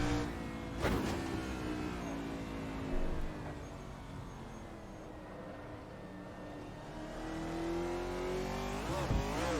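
NASCAR stock car engines roar in Assetto Corsa at Riverside during a final-lap battle, a sustained high-revving drone with shifting pitch sweeps as cars rev and pass, building again toward the end.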